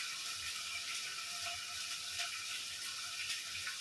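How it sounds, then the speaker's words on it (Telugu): Water poured into a cooking pot over spiced ingredients before rice goes in, a steady soft rushing splash that runs evenly for several seconds with no talk. "నీళ్ళు పోసుకుంటున్నా."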